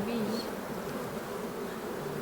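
Honeybees buzz steadily at an open hive during an inspection at a bee centre in Wales, a close, continuous drone with faint wingbeat tones rising and falling, and no talking.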